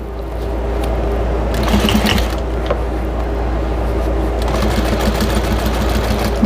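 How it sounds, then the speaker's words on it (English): A sewing machine runs steadily and loudly while stitching a fabric chicken potholder, a constant whirring drone with faint rhythmic clicking and no talk. "I'm going to start stitching right there, and I'm going to do 1/8 inch."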